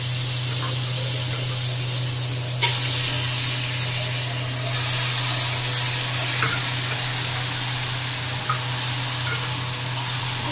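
Onion paste hitting hot oil with nigella seeds for katachochori, a loud continuous hiss and crackle that flares sharply at about two and a half seconds, then holds steady with small pops, close up, with a low hum underneath.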